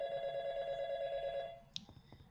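A telephone ringing in the video game YIIK: A Post-Modern RPG, a sustained electronic ring that cuts off after about a second and a half, followed by a few soft clicks.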